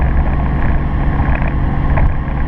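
A Toyota Supra's 1JZ-GTE engine is held at full throttle near 3,000 rpm during a street tune, giving a loud, continuous low drone with rumbling wind buffeting and no talk.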